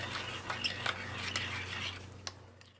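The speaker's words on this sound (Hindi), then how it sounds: "बस अब हमने इनको अच्छे से मिक्स करना है" Spoon scraping and clinking against a plastic box while mixing homemade rainbow ice cream mixture with green, red, yellow and blue colours, steady close stirring with occasional sharper taps over a low background hum.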